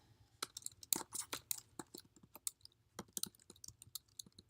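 Quiet, uneven bursts of computer keyboard keystrokes as an email address is typed, close and crisp with short gaps between runs of clicks.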